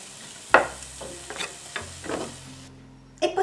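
Vegetables with parsley cooking in a pan for a Mexican-style rice salad, giving soft sizzling broken by several stirring scrapes and clinks, close, then quieting before a final clatter.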